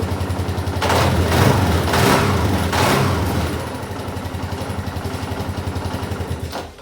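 A restored motorcycle engine, rescued from scrap, runs without choke, its close, loud exhaust pulsing in a rapid, even beat. It revs up briefly before settling back to a fast idle.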